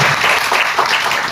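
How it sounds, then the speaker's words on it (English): Audience applause, a short, dense burst of many people clapping together at close range, loud and even throughout. "he deserves a big round of applause"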